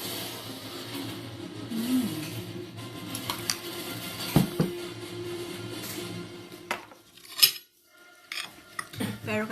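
Cutlery clinks and scrapes against dishes during a meal of rice, green beans and spam, with intermittent taps, a sharp clink near the middle and a brief quiet pause before more scraping.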